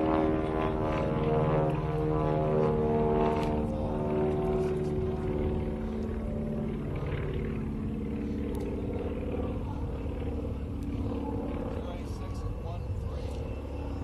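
An air show plane flying slowly near the stall with gear and flaps down gives a steady droning engine and propeller hum that sits under continuous commentary from a loudspeaker announcer.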